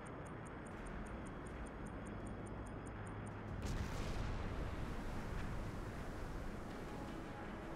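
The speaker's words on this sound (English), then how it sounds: "Go on, two torpedo hits." Two torpedo hits on a ship in Silent Hunter 5 come as a deep, distant rumbling boom that swells midway and rolls on, over a low background hum and faint interface pings, with no voices.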